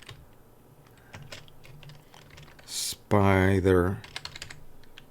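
Soft, rapid clicks of typing on a computer keyboard continue close by, broken by someone speaking briefly midway before the keystrokes resume.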